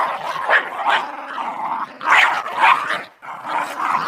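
Large hunting dogs growling and barking in a sound effect, loud and close, with repeated snarling bursts in an uneven rhythm and a brief pause before a final growl.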